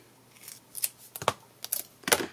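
Scissors snip through double-sided foam tape with a protective film backing, several close, crisp cuts in an uneven rhythm, quiet and alone.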